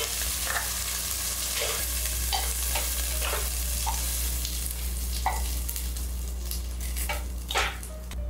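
Three-spot crabs fry steadily in a hot pan for crab congee, a continuous close sizzle with scattered spatters and pops throughout, no voices.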